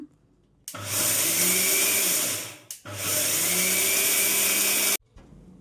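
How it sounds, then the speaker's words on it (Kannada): A kitchen mixer grinder whirs loudly in two close bursts while grinding a dry detox powder, with a brief pause between them, then cuts off abruptly. "ಒಂದೇ ಸಮ ನಾವು ಮಿಕ್ಸಿನಲ್ಲಿ ಹಾಕ್ಬಿಟ್ರೆ ಸ್ವಲ್ಪ ಗಟ್ಟಿಗಾಗ್ಬಿಡುತ್ತೆ."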